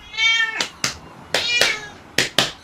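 A pet cat named Max meows several times up close, with short bright calls separated by sharp noisy bursts, alone without speech.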